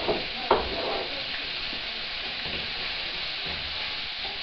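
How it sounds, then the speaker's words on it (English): Meat browning in a pan for paella with garlic and a bay leaf, a steady broadband sizzle running the whole time with a stir-like clatter near the start, fairly close and with no talk. "what we want to do at this stage is brown the meat"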